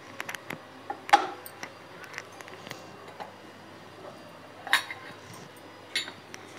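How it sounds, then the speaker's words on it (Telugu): A cooking pot is set onto a kitchen stove beside a pan of milk, giving a few faint metallic clinks and taps spaced apart in a quiet room. "ఇటువైపు ఇంకో గిన్నె పెట్టుకుంటున్నాను"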